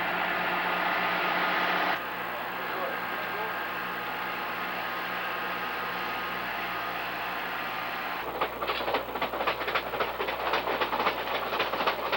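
Vintage luxury passenger train running along the Matapedia River, a steady broadband rail rumble throughout, with a sharper burst of rhythmic clickety-clack wheel beats near the end.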